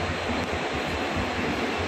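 Steady, dense rumble of the Guwahati–Silchar special train on Indian railway, loud and close throughout the short stretch with no pauses.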